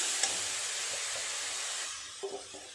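Spices fried and stirred in a pan while cooking ash gourd with coconut: a steady broad sizzle with a few soft scraping clicks of the spoon near the end, close and continuous, no talking.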